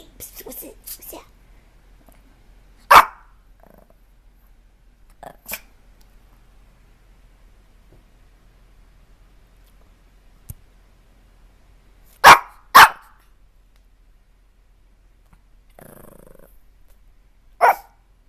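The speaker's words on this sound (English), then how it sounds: "It's a little bark." A small dog barks a few times, short sharp yips spaced out across a quiet room, with a person murmuring softly between them.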